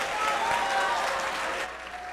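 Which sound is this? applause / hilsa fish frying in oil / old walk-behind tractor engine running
applause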